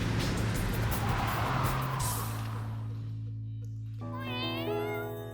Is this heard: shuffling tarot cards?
no